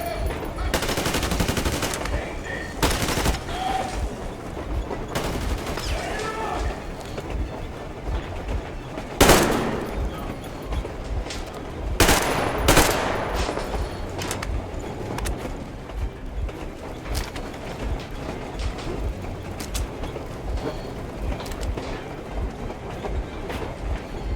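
Gunfire in the video game Metro Exodus, set aboard a train: loud, sharp bursts of shots stand out against a steady rumbling clatter of rail wheels, with several clustered volleys across the stretch.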